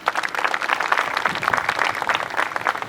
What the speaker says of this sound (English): Give them a round of applause as well, please